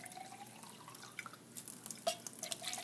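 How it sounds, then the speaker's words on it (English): Cold tap water poured into a can for a fossil fuels lab, a faint trickling and dripping splash of liquid against metal, quiet and close, with no talking. "Go ahead and add about 200 milliliters of cold tap water."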